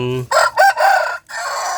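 A Thai game fowl rooster crows close by, a loud, harsh crow broken into a few strained segments after a brief low voice.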